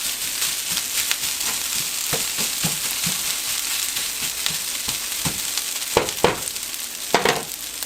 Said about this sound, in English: And then you let it sizzle like this for 2 or 3 more minutes.